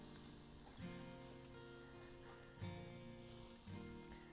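A steak sizzles and hisses in a pan over an open wood fire, a soft steady crackle with faint low thumps and scrapes as the meat is moved and flipped.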